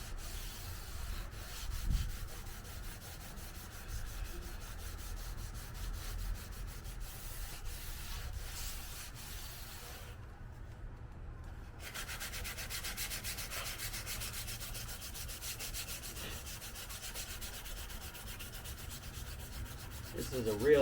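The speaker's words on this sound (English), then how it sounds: "This is a real light grit sandpaper. Don't want to make a lot of scratches." Light grit sandpaper rubbing on a plastic car part, heard up close as a long, continuous scratchy sanding sound. It pauses briefly midway, then carries on.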